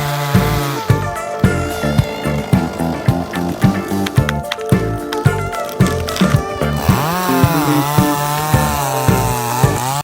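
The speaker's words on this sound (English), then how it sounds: "Watch as a skilled logger wields his chainsaw, facing the gnarly, twisted wood with pure determination." Chainsaw cutting through a gnarly, twisted tree trunk, loud and close, with a rapid pulsing engine rhythm as the chain bites, then a smoother revving tail near the end.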